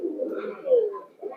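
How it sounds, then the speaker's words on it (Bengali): Bagha-type pigeons in a pigeon loft cooing, a low rolling coo close by, heard alone and continuous through the moment. "এই যে দেখেন এখানে যা আছে সবই বাঘা টাইপের কবুতর।"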